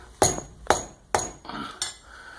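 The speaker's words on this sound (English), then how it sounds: "we haven't smacked on the bolt down here either to tighten it up" A bolt on a machine table being smacked tight during tramming: five sharp metallic strikes with a short ring after each, spaced roughly half a second apart, close and clear with no talk.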